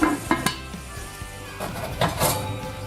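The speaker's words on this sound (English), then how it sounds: "Put a lid on your pot" A metal lid clanks onto a cooking pot holding pork with bay leaves and thyme for a French bistro roast, sounding as several close, sharp clatters and a scrape over a faint sizzle.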